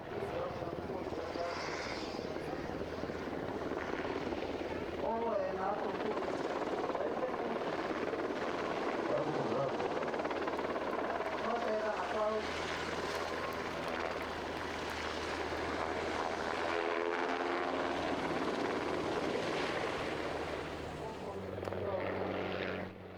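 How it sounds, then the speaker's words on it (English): At the Varazdin airshow in Croatia, a Croatian Air Force UH-60 Black Hawk helicopter gives off a sustained rotor whir and turbine drone. The sound stays fairly steady and mid-distance, swelling and easing gently over the stretch. "Appearing for the first time at Varazdin was this Croatian Air Force UH-60 Black Hawk."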